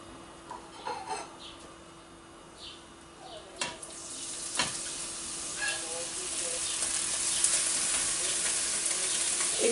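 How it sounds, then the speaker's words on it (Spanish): Onion frying in olive oil in a pan for mushroom croquettes, a quiet sizzle that grows louder and denser toward the end, with scattered clinks and stirring sounds. "en una sartén vamos a poner aceite de oliva para sofreír lo que es la cebolla"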